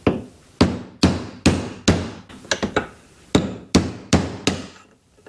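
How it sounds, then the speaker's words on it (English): A hammer strikes a chisel to loosen a seized part on a Workhorse brake setup, a steady series of about eleven sharp, loud metallic whacks with short ringing decays, spaced roughly half a second apart. "I'll come back and whack at this chisel."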